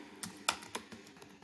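Quiet, close keystrokes clatter on a computer keyboard, a few irregular taps spaced over a second and a half.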